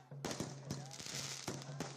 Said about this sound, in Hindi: वो तस्वीर आप देख रहे हैं आतिशबाजी की